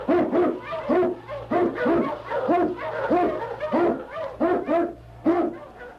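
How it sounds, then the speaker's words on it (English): A sled dog barks repeatedly in paired, evenly spaced rhythmic bursts, loud and close over a low hum, sounding like an older radio-drama sound effect. "King, the swiftest, strongest of Eskimo lead dogs, blazes the trail through storm and snow"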